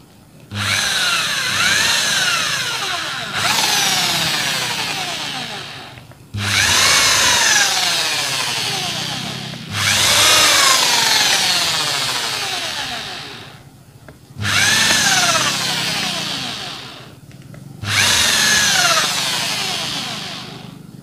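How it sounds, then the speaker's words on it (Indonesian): A power drill with a 4 mm bit runs in six long bursts, each whining up and grinding through material, separated by short pauses. "jadi mau dibor saja semacam ini ya, menggunakan mata bor yang 4 mili"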